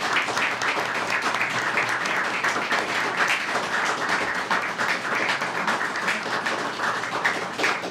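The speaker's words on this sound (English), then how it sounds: "let's give these guys a great round of applause for accepting" Attendees at a city mayor and council meeting break into sustained applause, crisp individual claps blending into a lively, even patter that holds steady for several seconds.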